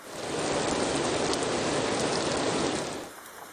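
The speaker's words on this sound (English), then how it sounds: "The rain continued softly outside, lulling her into a deep sleep." Soft, steady rain falls outside at night, a continuous gentle hiss that swells in, holds evenly and then fades away near the end, with no voices.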